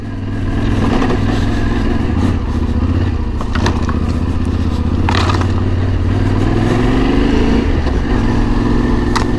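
A motorcycle on Mitas E 07 Plus Dakar off-road tires rides steadily, its engine droning loud and continuous with clattering and scraping from the terrain throughout.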